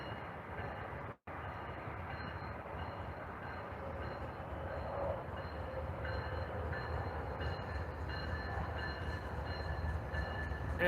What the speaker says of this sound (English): for those who hear the bells in the background, yes, we're about to get blocked by a train